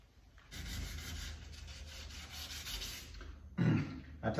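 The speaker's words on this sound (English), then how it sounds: "I told you about sanding without a block." Steady rubbing and scraping of hand sanding a hot rod's car body panel without a block for about three seconds, followed by a brief pause and a louder short scuff.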